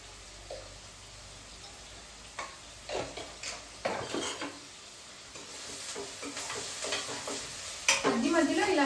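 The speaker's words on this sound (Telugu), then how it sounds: "మధ్య మధ్యలో ఇలా మిక్స్ చేసుకుంటూ మనం ఈ ఆనియన్స్ని అలాగే పచ్చిమిర్చిని ఫ్రై చేసుకోవాలి." Onions and green chillies with a pinch of salt fry in a pan for a moringa egg fry, giving a steady soft sizzle broken by occasional scraping and clattering stirs that grow busier toward the end.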